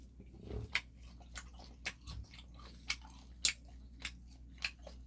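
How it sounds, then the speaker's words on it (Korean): Someone chews a mouthful of straw-smoked pork belly dipped in ssamjang sauce, with soft wet squishes and a steady run of sharp, crisp bites close to the ear and no talking. "좀 맛있게 해서 좀 했는데 한번 먹어보겠습니다"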